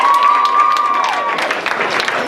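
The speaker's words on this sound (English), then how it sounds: "give a nice round of applause for Rachel." An audience at a storytelling event applauds Rachel with steady, fairly loud clapping and some cheering, while a thin sustained tone fades out early on.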